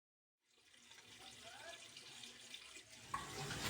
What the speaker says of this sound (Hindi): 10 मिनट पकाने के बाद यहाँ पर 1 लीटर पानी ऐड करेंगे इसमें।